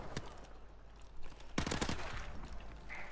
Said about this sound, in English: there's massive gunfire up top.